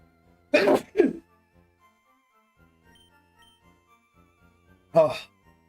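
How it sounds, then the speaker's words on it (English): A man lets out two quick explosive sneeze-like bursts close to the microphone, then after a few quiet seconds a third short burst, all loud and abrupt against near silence. "I gotta sneeze."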